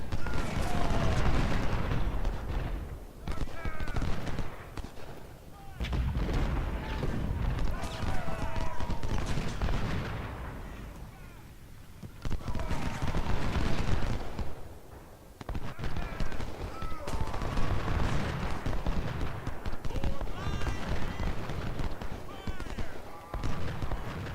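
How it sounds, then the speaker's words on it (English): Crackling musket volleys and dull artillery booms roll through a Civil War battle in a strategy game, coming in waves with brief lulls, while someone talks over them. "Artillery set up, we're going to start focus firing these units and push them out of cover."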